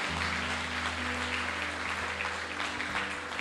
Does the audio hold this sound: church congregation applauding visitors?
yes